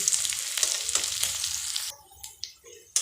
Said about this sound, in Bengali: তো আমার এই পেঁয়াজটা ভাজা হয়ে গেছে গা এখন নামাই নিব